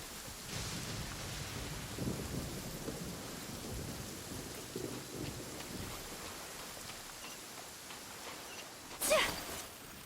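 Steady rain pours in the Inazuma region of Genshin Impact, with thunder rumbling low throughout and a sharp, bright crack of thunder near the end; no voices.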